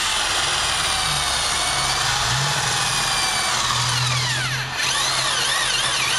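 A Craftsman DYT4000 lawn tractor engine with carburetor problems runs loud and steady close by, its pitch dipping and wavering briefly as it struggles to stay running; no speech.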